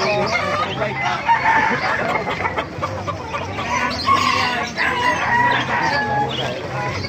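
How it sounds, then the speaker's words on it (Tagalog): Chickens and a golden-coloured rooster cluck and crow loudly nearby in a dense, overlapping chorus that runs throughout, with a voice faintly mixed in. "Mga manok."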